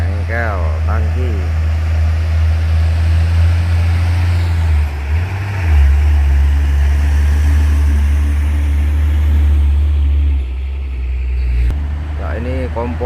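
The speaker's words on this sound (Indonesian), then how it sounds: "Ya ini konvoy truk tangki ya teman-teman," Heavy tanker trucks in a convoy rumbling past on a hillside road, a deep continuous engine drone with rising and falling passes, horn-like tones at the start and end.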